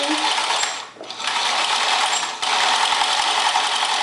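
A sewing machine back-stitches a dress seam at a 5/8-inch seam allowance on a 1946 Vogue pattern, whirring loud and close in a steady run that dips briefly twice as the stitching reverses.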